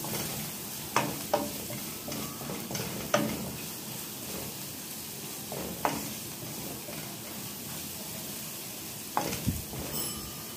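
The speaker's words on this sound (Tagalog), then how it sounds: "so igisa-gisa muna natin yan" Chopped onion sautéing in a pan, a continuous moderate sizzle broken by scattered clinks and scrapes of a utensil stirring it, close and without talk.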